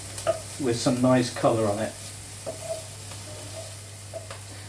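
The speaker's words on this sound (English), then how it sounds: "it's now time to get that bacon nice and cooked" Bacon fries in a hot pan for a bolognese, a faint steady sizzle running beneath a person talking at the start and continuing softly on its own afterward.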